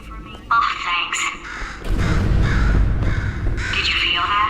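A bird in the Portal 2 video game caws loudly and harshly several times in short bursts. A voice talks alongside it.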